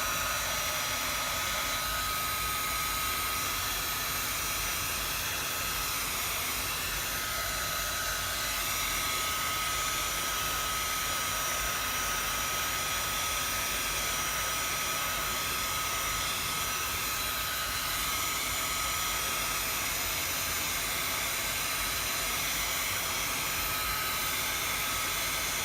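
A heat tool blows steadily while drying a watercolor card, a constant, even whooshing drone with no talking over it.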